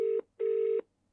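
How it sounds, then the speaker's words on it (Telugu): A phone call ringing out: two clean electronic ringback tone pulses, a short one then a longer one, loud and close, followed by silence. "సో సెకండ్ టైం కూడా మీకు కాల్ చేసి వినిపిస్తున్నాను లైవ్లో."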